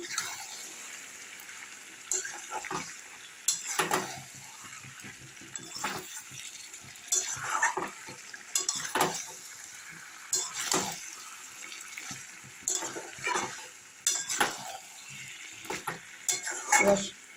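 A spatula scrapes and knocks in a pan as fried potatoes are stirred into chicken kosha, with irregular scraping strokes and clinks repeating throughout, fairly close with a faint background hiss.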